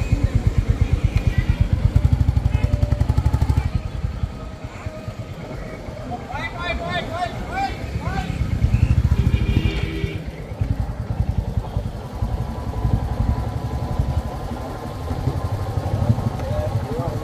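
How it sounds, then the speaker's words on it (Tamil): A motorcycle rolls along a road near Kanyakumari on engine braking, its engine note a steady close throb that dips and swells as the revs fall and rise, with a rider talking over it. "இன்ஜின் பிரேக்லேயே போகுது பாரு வண்டி."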